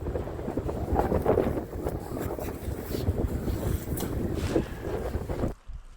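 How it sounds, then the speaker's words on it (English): Steady, gusty wind buffets the microphone with a low roar that rises and falls, then cuts off abruptly near the end. "It's a little windy right now."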